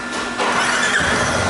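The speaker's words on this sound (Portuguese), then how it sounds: "Vamos ligar a moto aí." A Yamaha Teneré 250 motorcycle engine starting up after a valve adjustment and oil change, a close, loud cranking that catches into a steady running whir.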